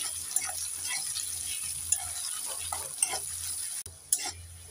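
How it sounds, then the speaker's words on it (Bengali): Onions stir-frying in hot oil for a Bengali fish curry with black cumin, a steady sizzle under repeated scraping strokes of a spatula against the pan, close and continuous. "এবার নেড়ে চেড়ে পেঁয়াজটাকে আমি লাল করে ভেজে নেব।"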